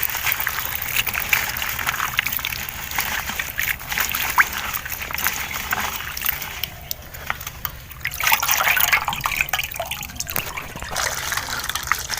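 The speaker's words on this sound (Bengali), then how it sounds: "মাসকালাইয়ের ডাল ধুয়ে দিয়েছি" Black gram lentils being washed in water in a home kitchen: continuous trickling, sloshing and dripping, with a brief fuller pour partway through, close and moderately loud throughout.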